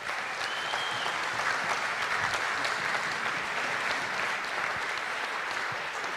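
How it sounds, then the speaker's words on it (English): A football banquet crowd applauds the coaching staff, a sustained, even wash of clapping from many hands in a hall, steady for several seconds. "Let's give these coaches a round of applause."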